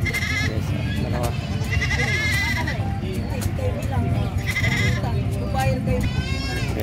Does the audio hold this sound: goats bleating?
yes